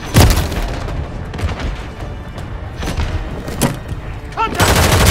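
Flashbang blasts in a Call of Duty match: a sharp, heavy boom at the start and another toward the end, with scattered gunfire and thuds between them, loud and close.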